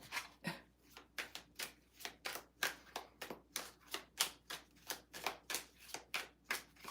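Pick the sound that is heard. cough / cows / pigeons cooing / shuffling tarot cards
shuffling tarot cards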